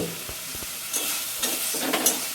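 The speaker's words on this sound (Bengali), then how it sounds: "মশলাটা কষাবো সুন্দর করে" Spice masala fries and is stirred in a pan for a potato and paneer curry: a soft steady sizzle broken by a few scraping strokes of the spoon, close and alone.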